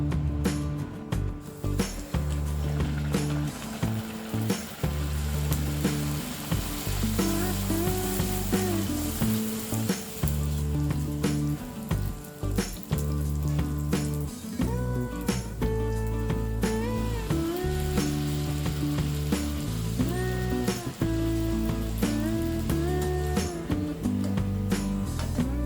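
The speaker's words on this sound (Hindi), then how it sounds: "अब हम इसी तरह बाकी पूरियाँ भी फ्राई कर लेंगे।" Pooris deep-fry in hot oil with a continuous dense sizzle and crackle that stays steady throughout, while background music plays.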